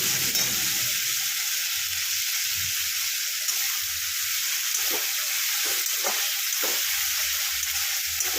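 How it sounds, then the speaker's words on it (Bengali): Onions fry in a pan for a chicken curry, a steady close hiss of sizzling oil broken by a few soft scrapes of stirring; no voices. "পেঁয়াজ ভেজে নিয়ে ছেড়ে দেওয়া।"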